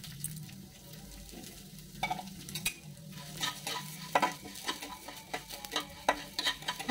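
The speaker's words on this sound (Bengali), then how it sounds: "এবার হালকা নাড়াচাড়া করে মুগ ডালটা 1 মিনিট ভেজে নেব।" Moong dal fries in oil in a hot wok, quiet steady sizzling under frequent scraping stirs and light clinks of a metal spoon, heard close with no voices.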